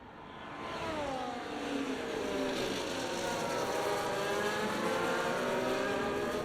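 Several F1 24 racing car engines at Brazil whine and rise in pitch together as cars pass, a steady loud layered drone with overlapping sweeping tones and no voices.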